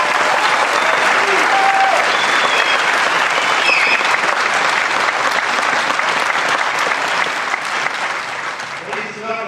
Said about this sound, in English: let's have a big round of applause for the newest members of the Metropolitan Police Department